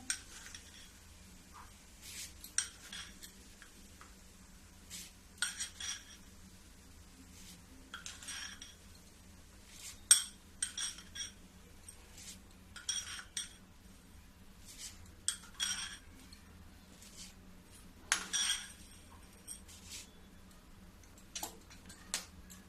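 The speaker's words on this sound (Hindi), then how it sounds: "फिर भी मैं चम्मच से ही डाल के दिखा देती हूँ" Sugar spooned into a pot for vanilla ice cream, heard as a scatter of light metallic clinks and ticks of a spoon against the vessel, soft and close, with a steady low hum underneath.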